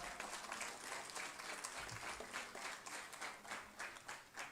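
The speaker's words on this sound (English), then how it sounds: "the teachers in this room deserve a big round of applause" Sustained applause from a room of graduation attendees honoring the teachers, dense clapping running steadily throughout with no voices over it.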